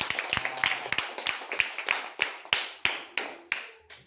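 A class claps after a group presentation: about a dozen fairly slow, separate claps in a loose rhythm, close and moderately loud, with a brief voice or noise at the end.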